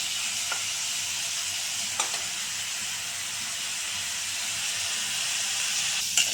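Onions sizzle softly in oil, a continuous frying hiss with a few light scrapes of a spatula against the pan.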